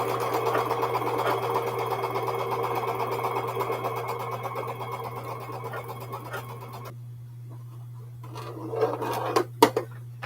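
A sewing machine runs a fabric seam for a quilt block with a constant motor hum and fast needle ticking for about seven seconds. It stops, then a few clicks and fabric handling noises follow, all nearby, with no one speaking.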